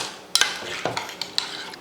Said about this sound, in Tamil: நல்லா கலந்து விட்டுருவோம்